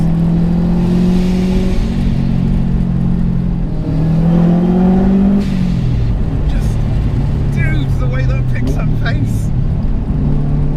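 A modified 500 bhp Subaru Forester pulls hard in third gear, its engine droning and rising in pitch as it accelerates, heard loud from inside the car while people talk over it.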